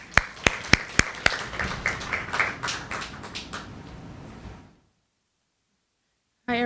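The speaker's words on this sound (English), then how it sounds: "And so with a round of applause, let's welcome Diamond." An audience at a literary reading event welcomes a poet with clapping that opens with a few sharp separate claps, swells into a short patter, then fades to silence before a voice begins.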